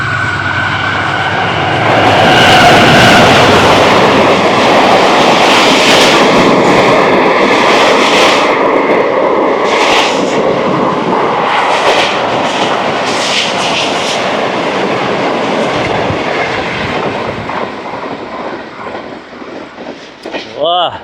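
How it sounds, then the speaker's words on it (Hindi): The 26 Down Bahauddin Zakariya Express, led by an AGE 30 locomotive, rushes through Jhimpir at 110 km/h in a loud, close roar of wheels and clattering wagons that slowly tapers, with an excited voice speaking over it. "26 down Bahauddin Zakaria express AGE 30 की लीड में 110 किलोमीटर की रफ़्तार से इसने जमपीर क्रॉस किया"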